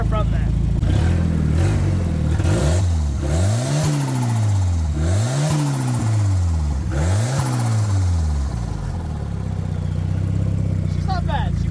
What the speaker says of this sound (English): She's not bad, she purrs. So, as you can see, it is pretty loud